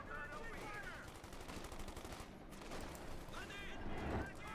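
MG-34 machine gun fire in the video game Company of Heroes 2, rapid bursts of gunshots crackling amid other battle noise while a caster talks over the action.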